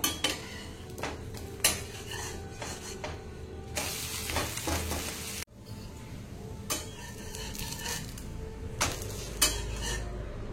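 Tomato adai being turned over on an oiled pan: light sizzling of oil under scattered metallic scrapes and clinks of a spatula against the pan, with one louder burst of frying midway.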